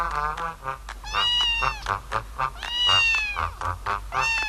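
A cat meows repeatedly in drawn-out, wavering cries, close and clear, with short gaps between each call and no talking.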